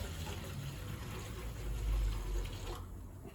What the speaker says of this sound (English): it's not a good idea to use empty deposit, so I better put some liquid inside.